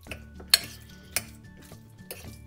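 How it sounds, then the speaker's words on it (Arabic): Salad of chicken and vegetables gets stirred and tossed in a bowl with a utensil, producing a few sharp clinks against the dish amid soft wet mixing sounds, close and fairly quiet. "ونخلطوها نحركوها"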